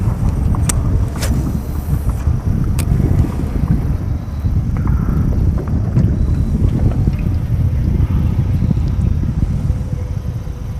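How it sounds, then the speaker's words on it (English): Steady wind buffeting the microphone outdoors on a fishing boat, a continuous low rumble with no speech. "That wind just hit me, a little breeze."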